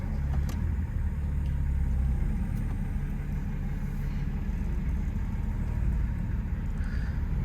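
A Toyota 80 series Land Cruiser swapped to a 2021 LM2 Duramax diesel with a 10-speed transmission is driving, giving a steady low engine and road rumble that holds at an even level throughout, with no talk.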